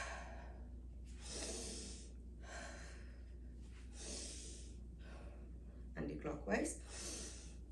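Slow breaths drawn in and let out during a yoga shoulder stretch, several soft airy exhalations in a steady rhythm, close and fairly quiet over a low steady hum.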